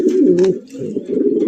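Black racer pigeons coo loudly and close by in throaty, rolling bursts, with a brief pause before the cooing resumes.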